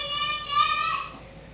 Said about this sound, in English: Sorry, you can hear my kids in the background.